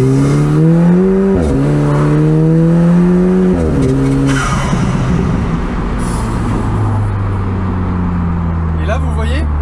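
An Alfa Romeo 4C with a 320 hp engine accelerates hard, engine note climbing loudly then dropping sharply at each of several gear shifts, followed by a lower roar with tyre noise; someone talks over it.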